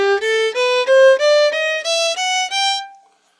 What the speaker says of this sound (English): there's this really cool jazz scale that's called the major bebop scale